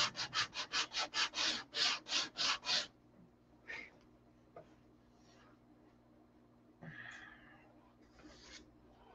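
Sanding a plastic canopy on a P-47 aircraft model: about ten quick, loud rhythmic rasping strokes in a steady back-and-forth run, then a few faint scrapes and small handling noises.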